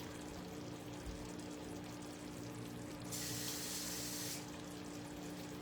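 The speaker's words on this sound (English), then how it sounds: "I'm actually going to add a little bit more water to this so that it can keep absorbing the water and soften up" Water poured into a pot of rice pudding, a soft steady hiss of pouring for about a second amid quiet kitchen background.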